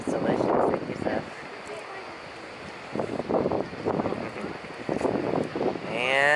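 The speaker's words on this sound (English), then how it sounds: "But it is hella windy." Strong wind at a campsite in Gaviota State Park buffets the microphone in gusty bursts, with people talking over it.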